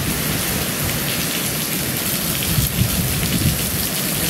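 Heavy rain pounds down during Hurricane Ian in Sarasota with a dense, steady roar, while low rumbles of thunder roll under it, close and loud without pause.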